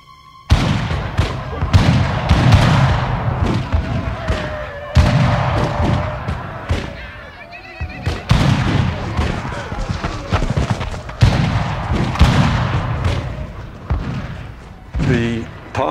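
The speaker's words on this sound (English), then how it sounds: "That's when the shooting begins." Gunfire from a dramatized attack on an army patrol in the Western Indian Wars, with repeated loud booming shots and volleys in rapid bursts, layered with other sound and fairly close.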